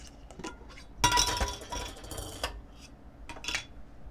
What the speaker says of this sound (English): I got my little mason jar